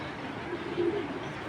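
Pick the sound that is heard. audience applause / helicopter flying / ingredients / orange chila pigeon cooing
orange chila pigeon cooing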